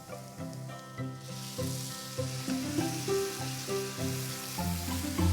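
Risotto sizzling in a pan as stock is added a ladle at a time and stirred in, a soft steady hiss with tonal music playing over it throughout.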